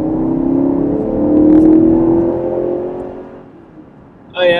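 A 2019 BMW X5 xDrive50i with a 456-horsepower engine accelerates hard on a road test drive, its engine note rising and droning loudly for several seconds before easing off, with no talking.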